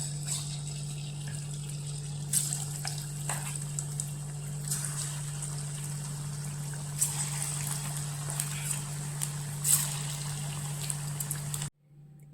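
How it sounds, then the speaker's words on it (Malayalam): Mushrooms fry in hot oil in a wok, giving a quiet, steady sizzle with occasional crackling bursts and a constant low hum underneath, ending with a sudden cut to silence. "മഷ്റൂം ഫ്രൈ ചെയ്തെടുക്കാനായിട്ട് ഇത് ഒരു ചീനച്ചട്ടിയിൽ ഓയിൽ ഒഴിച്ചിട്ടുണ്ട്."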